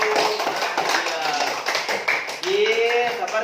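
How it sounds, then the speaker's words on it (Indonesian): Students in an Indonesian classroom clap for a classmate, a brief burst of close, crisp hand claps with voices talking over and around it. "Beri tepuk tangan untuk Amelia."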